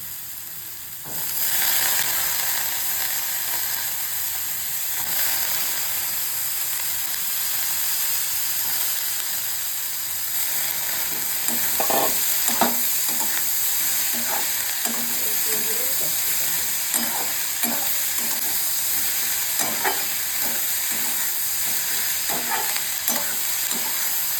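Onions sizzling in hot oil for pav bhaji, a steady close hiss that starts abruptly, with repeated scraping and clinking of a spoon stirring the pan in the second half.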